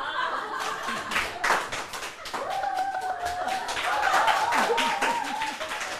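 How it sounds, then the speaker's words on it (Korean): Studio audience at a Korean TV show's laughter-therapy session applauding, a dense wash of handclaps running throughout with a few voices and chuckles mixed in. "박수!"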